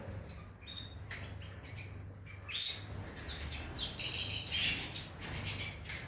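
Birds squawk and chirp in quick scattered calls at moderate distance over a steady low hum in a warm indoor space, with no talking.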